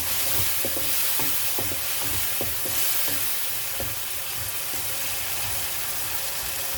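Green chillies drop into okra masala frying in a pan, setting off a steady close sizzle with light stirring clicks and scrapes throughout.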